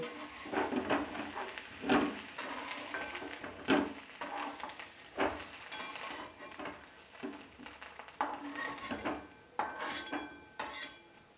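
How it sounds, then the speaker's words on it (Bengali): Cauliflower fries in oil in a kadai and is lifted out with a metal spatula, giving repeated clinks and scrapes against the pan over a soft sizzle, close and fairly steady, with no speech. "কপিটা এখানে হালকা ব্রাউন কালার করে ভাজা হয়ে গেছে। এবার এটা আমি কড়াই থেকে তুলে নেব।"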